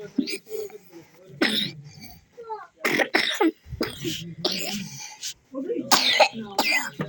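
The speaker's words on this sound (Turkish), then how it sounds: "Nasıl öksürük ya?" A series of sharp, close coughs in uneven bursts, with a voice babbling between them.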